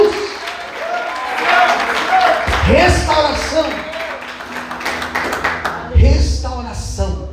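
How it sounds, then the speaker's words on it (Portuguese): A church congregation claps and applauds during a Portuguese-language sermon, a sustained steady patter of many hands beneath a preacher's voice, which rises over it at moments. "Quantos podem aplaudir no nome de Jesus?"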